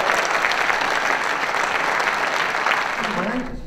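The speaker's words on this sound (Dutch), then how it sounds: "Ik vraag u applaus voor Hinne Nouwe met zijn ambassadeur Chris" Steady applause from the audience fills the hall at a local award ceremony. The clapping stays dense and loud at a constant level, then dips slightly as it starts to fade at the end.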